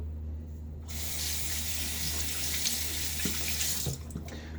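A bathroom tap runs during a wet shave, opening abruptly after a near-silent start into a steady, hissing stream for about three seconds before shutting off, close and fairly loud.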